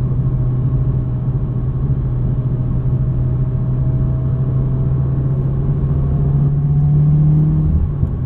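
A 2020 Subaru WRX engine pulls hard under boost, a steady, loud, close mid-range drone that holds a sustained tone and rises slightly toward the end, with no talk over it.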